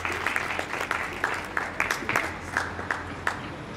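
An audience at a kavi sammelan in Ratlam gives a poet a loud round of applause, dense clapping with sharp individual claps standing out over a low hum, close and sustained.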